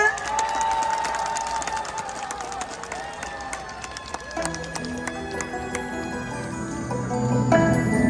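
Outdoor festival crowd at the Hongje Stream waterfall plaza in Seodaemun applauds and cheers to welcome a trot singer, a steady wash of clapping that music gradually joins and swells over in the last seconds.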